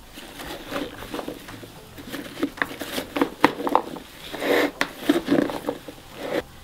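Salted eggplant pieces being stirred in a bowl, giving soft, irregular squishy patters and light clacks at close range, with no talking.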